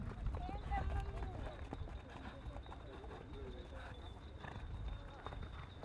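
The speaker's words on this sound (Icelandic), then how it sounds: "Það er brúni hesturinn." Rhythmic hoofbeats of a brown horse racing at an Icelandic riding competition, a steady galloping clip-clop under continuous commentator speech.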